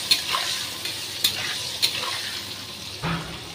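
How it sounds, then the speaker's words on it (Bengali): Soybean chunks frying with salt and turmeric in a pan, a soft steady sizzle with several brief clinks and scrapes of a spatula stirring at close range, with no talk. "নুন আর হলুদ দিয়ে একটু ভাজা ভাজা করে নেব"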